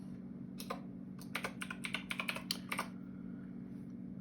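Keys on a computer keyboard clack in a quick burst of close, crisp taps over a low steady hum, with a single tap before the run and quiet after.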